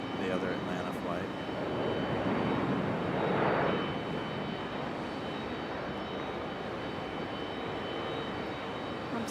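An Atlanta-bound airliner at Raleigh-Durham airport gives off a continuous jet roar that swells slightly midway and holds steady, with people talking over it throughout.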